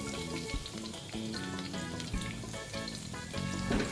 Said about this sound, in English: The garlic has been frying on a low flame for 2 minutes now